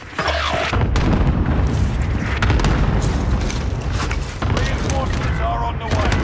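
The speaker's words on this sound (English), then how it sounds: "Cluster strike is active." Cluster strike bombardment in Call of Duty Warzone, a dense run of heavy booms and overlapping blasts rolling continuously for several seconds at high volume.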